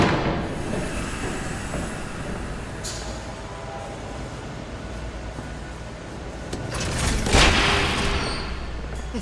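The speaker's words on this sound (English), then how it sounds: "There's a train coming." Train rolling past in the video game Batman Telltale, a broad sustained rumble with clanking bursts that swells louder toward the end as it passes close by, with no speech.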